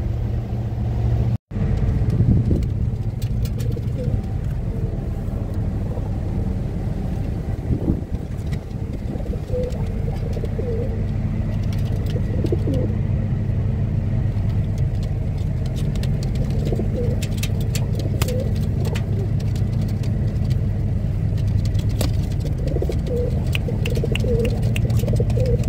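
Pigeons aboard an offshore ship coo softly and intermittently over a constant low engine and water rumble, with occasional clicks and rustles nearby.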